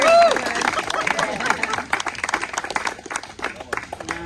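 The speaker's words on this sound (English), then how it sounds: "let's have a round of applause" An outdoor crowd at a ribbon cutting for a village lane claps enthusiastically, a busy, loud burst of applause with a few shouts and voices mixed in, thinning out after a few seconds.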